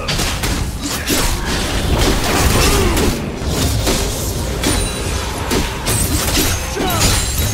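A turret is destroyed in a League of Legends ranked match, a loud, dense crash of booms and crumbling impacts rolling on continuously, with only faint traces of other game noise.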